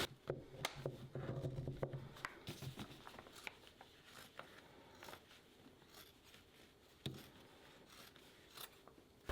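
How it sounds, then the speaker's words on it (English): Scissors snip through a folded towel in a semicircular cut, making faint, close crisp crunches and rustles in irregular bursts with quiet pauses. "we're gonna cut from this corner in kind of a half a semicircle"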